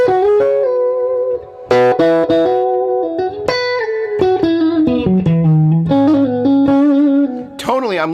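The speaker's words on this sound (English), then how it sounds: "the delay's just kind of hanging out there in the background with the reverb" Electric guitar notes and chords ring out with a trailing delay and reverb wash hanging behind them, steady and fairly loud throughout.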